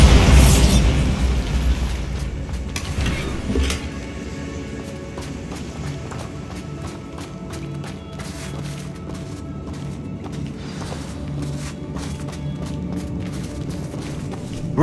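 In Hogwarts Legacy a Bombarda spell goes off with a loud booming blast at the start, a second burst shortly after, then a rumbling, crackling tail of debris and game ambience with light footsteps.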